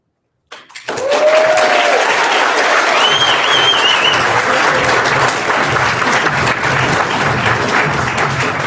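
Loud, sustained audience applause after a poetry performance at a youth poetry slam, starting abruptly and filling the room with dense clapping and a few scattered cheers.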